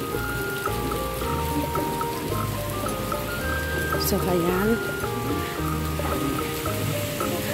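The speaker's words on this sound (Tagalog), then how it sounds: "Ang lakas ng umuulan kasi mga ka-angels." Heavy rain pours steadily in Singapore, a constant hiss and patter beneath someone talking, with music playing through it.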